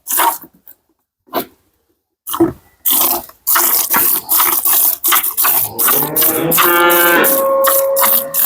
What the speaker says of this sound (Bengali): গরু চলে যাচ্ছে, মালিক নেই।